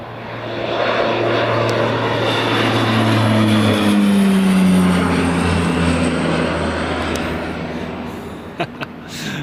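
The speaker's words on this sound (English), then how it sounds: "It's a nice low takeoff." Manchester City's team aircraft taking off low from Newcastle Airport, a loud, steady roaring engine drone with a humming tone that swells and slowly fades as the plane climbs away, heard without speech.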